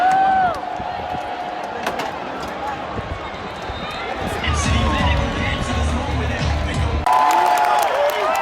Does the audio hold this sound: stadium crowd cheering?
yes